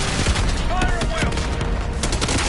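Rapid gunfire from Call of Duty: Black Ops 6, a dense fusillade of shots filling the whole two and a half seconds, loud and continuous, with voices mixed in.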